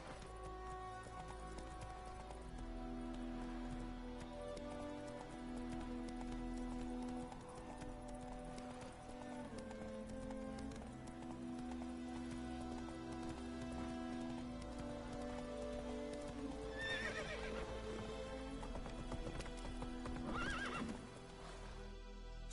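In The Witcher 3, the horse Roach trots with steady clip-clop hoofbeats under a continuous musical score, giving a couple of whinnies toward the end, moderately loud within the game mix.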